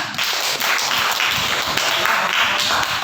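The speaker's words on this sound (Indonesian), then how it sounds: "Ya, tepuk tangan." Scattered clapping from a classroom audience during an Islamic religious education lesson, a steady burst of many hands that fills the clip at close range with no talk over it.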